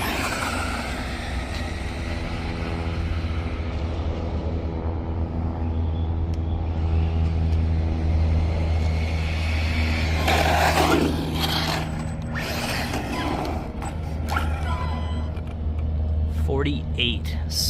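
Arrma Vorteks 4x4 BLX 223S RC car on a speed run, its high motor whine rising and holding over a steady low rumble, with bursts of clatter and scuffing midway and a person talking.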